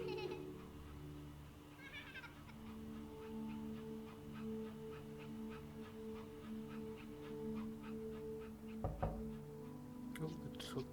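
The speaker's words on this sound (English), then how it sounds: "It's a dog." A dog whimpers and whines in the video game That Dragon Cancer, with soft repeated cries over a steady tonal background and a few sharper sounds near the end.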